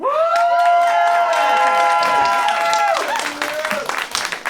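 A live comedy audience claps and cheers loudly to vote for a Shakespearean monologue, a dense wash of applause with whoops and shouts that fades into scattered claps.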